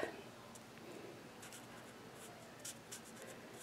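A marker's nib tip colors on paper-crafting cardstock in light granny apple green, a faint, steady soft scratching with a few quick strokes, close and quiet, with no talk.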